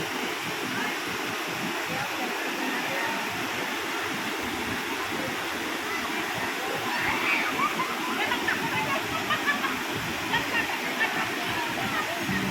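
Continuous rushing water of a cold spring flows steadily with splashing as children swim, while faint voices carry in the background.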